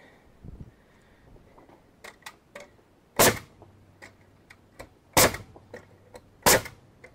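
A nail gun fires fasteners into the middle post of a wooden compost bin under construction: three sharp, loud bangs spaced a second or two apart, separated by quieter clicks and handling knocks.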